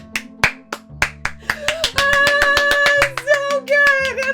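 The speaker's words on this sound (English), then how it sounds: "You build your own applause machine." A homemade applause machine claps in a quick, uneven run of sharp hand-like smacks. A sustained tonal voice or hum rises behind the claps partway through.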